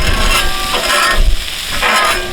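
Ribeye steak chopped and pulled apart on a hot griddle for sliders: a steady close sizzle with repeated scraping, chopping knocks from a spatula, with no talk.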